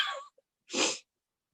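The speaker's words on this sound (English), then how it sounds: "I feel like I'm about to sneeze" A single short, breathy sneeze from allergies bursts out after a brief inhale, alone in an otherwise quiet room.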